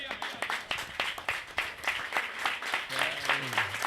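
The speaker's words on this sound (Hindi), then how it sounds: "जोरदार तालियां।" A church congregation at a Hindi sermon gives hearty applause, with sharp, fairly rhythmic claps from a room of people, and a voice rising over the clapping near the end.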